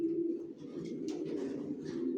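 Racer pigeons coo in their loft, a low, throaty, rolling burble that carries on without a break, with a few fainter chirps and rustles mixed in close by.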